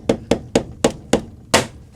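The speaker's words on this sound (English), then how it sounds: "a mallet helps to just tease, like if you can just hammer it into the gap a little bit" A mallet drives a podger into the seam of a DJI Power 1000 V2 power station's casing to pry it apart, giving six sharp, evenly spaced knocks, close and loud, with the last strike heavier.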